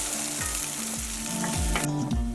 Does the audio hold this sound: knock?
no